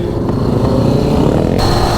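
Motorcycle engines rev loudly and close, a dense throaty roar sustained throughout with no talk.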